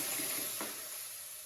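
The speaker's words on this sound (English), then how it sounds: "do you hear that sizzle?" Bacon strips sizzling inside a toaster, a steady close hiss with faint crackle throughout, fading slightly toward the end.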